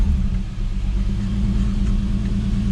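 Car engine idling with its muffler just refitted, a steady deep low rumble close by with no talking.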